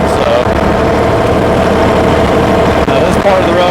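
A New Holland Workmaster tractor engine lugs uphill at about 1500 RPM, a loud, close, continuous low diesel drone that holds steady, with a voice speaking over it.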